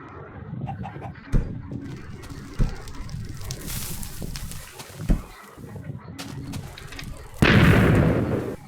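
Bomb explosions in the Minecraft video game: several sharp booms ring out at intervals over a rumbling game background, ending in a louder, longer roaring blast near the end.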